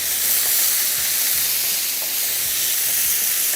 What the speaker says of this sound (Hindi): इसके बाद तेज़ आंच पे इसको हम करेंगे फ्राई